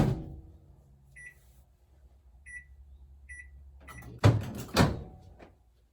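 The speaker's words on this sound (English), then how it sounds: "take these 2 sticks of butter and put it in the microwave for, I'm going to do 10-second intervals." A microwave oven runs with a low, steady hum while butter melts, with three short beeps spaced about a second apart. Two louder thumps follow near the end, like the door opening or closing, with no talk.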